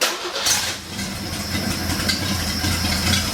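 A car engine with an exhaust manifold and no turbo yet runs steadily close by, a continuous low rumble with a slight uneven throb throughout and no talking.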